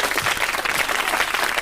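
An audience at a Sooty puppet show claps for Scampi, a dense burst of applause filling the whole short moment.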